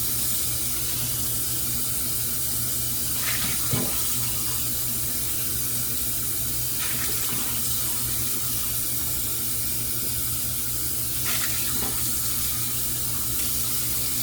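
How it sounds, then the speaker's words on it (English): Tap water runs in a steady, loud hiss as a mug is rinsed, the flow broken by a few brief splashes and shifts in tone when the mug passes under the stream. "Let's rinse this mug out a little bit."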